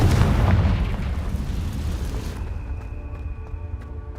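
The fiery Confringo spell from Hogwarts Legacy bursts in a loud, deep explosion. The blast rolls off into a steadily weakening rumble, with faint ringing tones lingering at the tail.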